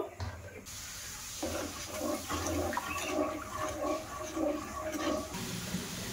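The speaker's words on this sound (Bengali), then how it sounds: "এবার আমি এই বাটির এক বাটি জল দিয়ে দেবো ফ্রাইং প্যানের মধ্যে।" Water poured from a bowl into a frying pan while making modak, a steady splashing, trickling pour lasting several seconds at moderate level, with faint background noise and no speech.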